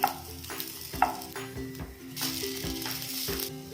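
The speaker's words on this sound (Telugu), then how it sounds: "మంటను లో ఫ్లేమ్లో పెట్టుకొని వీటిని ఫ్రై చేసుకోవాలి" French toast frying in a pan over a low flame, a soft steady sizzle with spatula clinks and stirring scrapes at intervals, close and fairly quiet.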